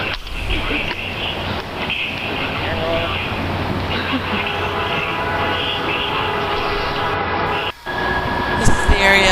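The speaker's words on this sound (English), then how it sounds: "And there's a train." A train passing through downtown Columbus, Ohio on a cold day near the arena district, a steady rumbling roar that stays loud and close for several seconds with no talk.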